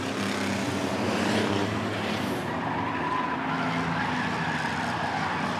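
Six-cylinder stock cars race a heat at Rockford Speedway, their engines a steady, distant roar that swells and fades slightly as the pack circles the oval, with no talk over it.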